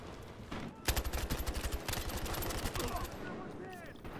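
Rapid automatic gunfire from a Battlefield Hardline multiplayer match rattles in a loud sustained burst lasting a few seconds, with game sounds and a voice around it.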